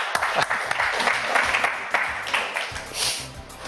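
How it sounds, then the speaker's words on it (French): Applause greets a guest on a French media-news radio show, a dense, steady wash of many hands clapping that holds for a few seconds, fairly close and without any talk over it. "c'était Raphaël Mézraï qu'on applaudit"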